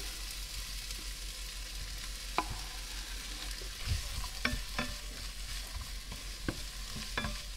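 Chopped onion and poblano pepper fry in hot oil and fat in a pan, a steady broadband sizzle broken by several sharp scrapes and taps of a spoon stirring the vegetables.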